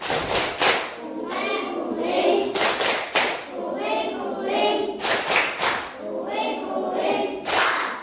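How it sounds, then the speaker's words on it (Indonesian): Children in a classroom play the tepuk nyamuk clapping game, striking hands in sharp rhythmic bursts of counted claps separated by stretches where an adult voice chants or talks. "Ayo kita bertepuk tangan dulu. Tepuk nyamuk."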